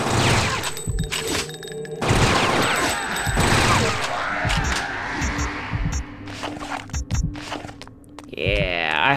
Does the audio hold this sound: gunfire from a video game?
yes